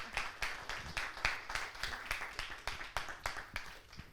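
An audience applauds a new book at a book presentation, with soft, evenly spaced claps in a quick steady rhythm for a few seconds and no voices.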